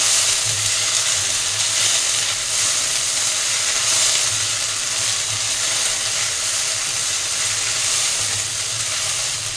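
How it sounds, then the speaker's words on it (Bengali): Chinese-style bread upma with soy sauce and vinegar sizzles and fries steadily in a pan while being stirred, a loud continuous hiss with faint scraping and no voices. "সবগুলো এবার সুন্দর করে নাড়াচাড়া দিয়ে নেব।"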